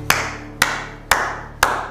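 Four separate, evenly spaced claps ring out close and crisp, about half a second apart, at the end of a meeting where the group is asked to applaud Sos Berberyan.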